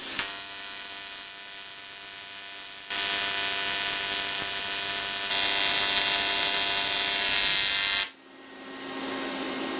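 Welding passes on the crankcase of a 500 CR motorcycle engine, building up aluminum filler around a bushing, a steady electrical buzz with a broad hiss that jumps louder midway and drops off near the end, with no talk.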